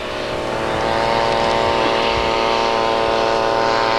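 Vintage Sopwith aircraft piston engine running steadily at an air meeting, a loud continuous harmonic drone that swells slightly at the start and then holds even.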